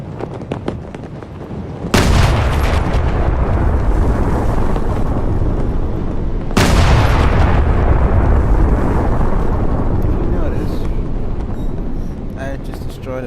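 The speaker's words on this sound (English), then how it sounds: "Destroyed a building with the tank's cannon" A tank cannon in a video game fires and destroys a building: two heavy booms, each followed by a long, rumbling crumble of debris, over a constant noisy background.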